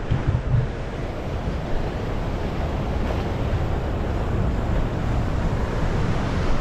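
Ocean swell and waves at a beach, a continuous roar of surf mixed with strong wind buffeting the microphone, with no voices.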